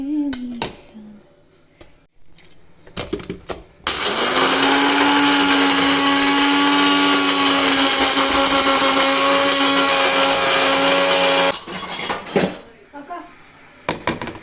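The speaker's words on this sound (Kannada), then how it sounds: "ಗ್ರೈಂಡ್ ಮಾಡಿ ಫುಲ್ ಸಣ್ಣದಾಗಿ ಪುಡಿ ಮಾಡ್ಕೊಂಡ್ಮೇಲೆ ಒಂದು ಮಿಕ್ಸರ್ ಬೌಲ್ಗೆ ಹಾಕೋತಾ ಇದ್ದೀವಿ" An electric mixer grinder grinding Oreo biscuits to fine powder whirs loudly for several seconds with a steady high whine, preceded and followed by brief clinks and handling noises.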